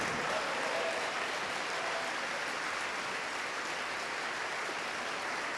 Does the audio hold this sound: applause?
yes